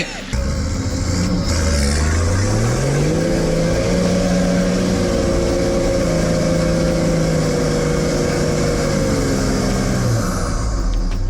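A car engine revs hard on a snowy high-country slope, the pitch climbing then holding in a long strained whine as the wheels fail to grip, loud and close for about ten seconds before dropping off.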